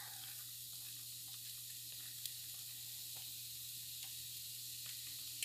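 Onions hiss in a pan in a quiet, steady sizzle at low volume, a continuous frying sound with occasional faint pops and ticks and a low hum beneath.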